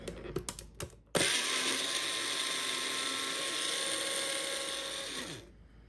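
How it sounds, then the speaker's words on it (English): A small twist-on blender runs steadily after a few brief clicks, emulsifying a creamy orange vinaigrette dressing with a loud, continuous whirring buzz for about four seconds before winding down. "it's going to be so easy to just blend that up and get it so well emulsified"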